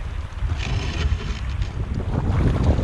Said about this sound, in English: that wind and the wind has really picked up